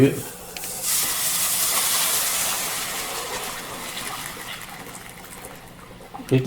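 Boiled water is poured onto roasted semolina in a hot pan for Udupi upma, bursting into a loud steaming hiss and sizzle that gradually fades, with a brief clatter at the start and end.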